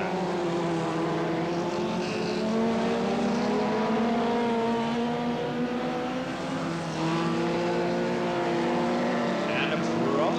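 Stock cars racing on a track in a caravan racing event, a steady roar of several engines with rising and falling pitch heard at a distance, beneath continuous commentary over a loudspeaker.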